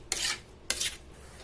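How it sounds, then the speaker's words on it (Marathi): A spoon scrapes stuck rice flour dough from the sides of a pot in two short, rasping strokes, close and fairly loud, separated by a brief pause over a quiet background. "हे बघ चमच्याने आजूबाजूला लागलेलं असतं ते असं काढून घ्यायचं."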